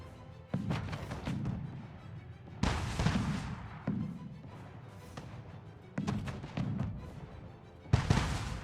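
Cannon towers fire in the strategy game Anno 1800, a series of booming shots in irregular bursts, each sharp report followed by a rumbling tail, with no talking.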